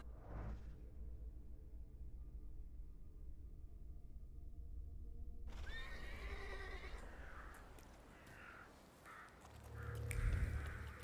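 A horse in The Thaumaturge gives a clear neigh near the start, followed by a steady bed of hoofbeats and game ambience, with fainter animal calls and a louder rumble near the end.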